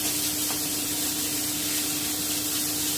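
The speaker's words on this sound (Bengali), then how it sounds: "আমি একটু ভেজে নিচ্ছি খুব ভালো করে" Grated carrots frying in a pan for carrot kheer, a constant close sizzling hiss with a faint steady hum underneath and no talking.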